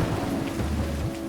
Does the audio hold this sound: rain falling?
yes